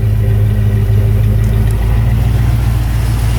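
A 1993 Ford Bronco with a V8 and five-speed idles close by, a loud, steady low rumble with an even throb and no revving, unbroken for the whole stretch.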